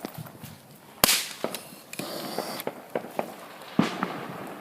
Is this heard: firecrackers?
yes